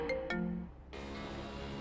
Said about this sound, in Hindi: तभी ज्योति बुआ की बेटी प्रीति का फोन आया।